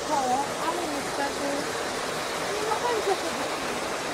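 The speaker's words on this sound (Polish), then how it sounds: "Jest to koło wodne." A water wheel turning in flowing water after heavy rain, a constant loud rush and splash filling the whole scene with faint tonal chirps woven through it.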